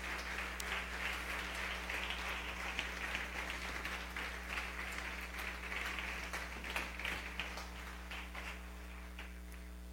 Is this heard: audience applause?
yes